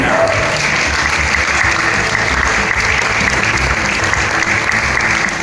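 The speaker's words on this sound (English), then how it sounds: "Make some noise for Ole Martin Halvorsen." Loud, continuous applause from a large crowd with scattered cheers at a 10m air rifle men's final, World Cup in Lima, Peru, sustained evenly throughout without a break.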